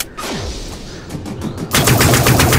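Pistol fire in the shooter game Dust 514, a loud rapid string of sharp cracks with ringing echo, closely spaced shots after a brief quieter lead-in, heard alone with no talking.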